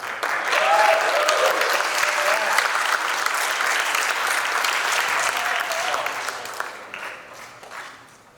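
Sustained applause from a conference audience fills the room with dense, even clapping at full strength, tapering off toward the end, with a few faint voices mixed in.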